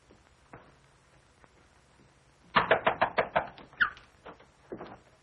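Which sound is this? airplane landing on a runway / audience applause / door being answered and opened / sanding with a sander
door being answered and opened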